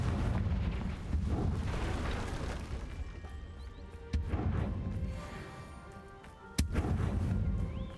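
Booming blasts from the Confringo spell in Hogwarts Legacy, several heavy explosions with sharp cracks and rumbling tails in a loud, continuous battle soundscape.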